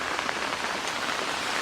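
Heavy rain falls steadily in a park in Sochi, Russia during rain season, a dense, loud, continuous hiss of drops pattering on surfaces and an umbrella close by.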